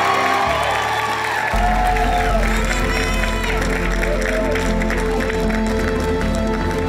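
Studio audience applauding and cheering a departing contestant on a televised music competition, a steady wash of clapping and crowd noise with music underneath throughout.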